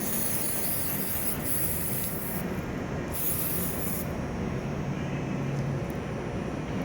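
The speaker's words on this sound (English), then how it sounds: "we're gonna take our brake cleaner and get the old brake fluid off" Aerosol brake cleaner sprayed onto a Subaru Forester brake caliper during a rebuild, a steady close hiss lasting several seconds with only slight changes in intensity.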